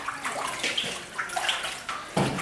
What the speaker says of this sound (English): We put the laundry in the soapy water.